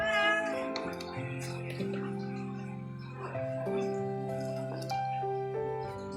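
A thin Bombay cat meowing close by in a home, a series of drawn-out, tonal meows one after another with little pause between them, fairly clear and unmasked.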